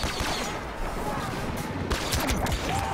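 Star Wars Battlefront video game battle on Bespin: dense, continuous blaster and gunfire crackle with rapid overlapping shots and explosions, loud and steady throughout, with a player's voice faintly underneath.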